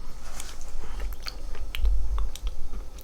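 Close, wet chewing and biting while eating a pint of cake-flavored ice cream, with soft bursts of mouth noise and spoon scraping over a low rumble, and no talking.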